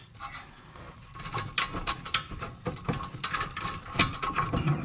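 The top caliper bolt on a Lexus GS400 being threaded in by hand: a close run of small clicks, metallic ticks and light scraping, irregular and fairly quiet, with no talk.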